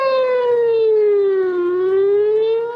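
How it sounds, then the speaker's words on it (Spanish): Civil defense air raid sirens wail over Jerusalem, a single steady rising and falling tone sweeping slowly down and back up, loud and continuous with no voices. "escuchar después de años una vez más el ulular de las sirenas de alarma"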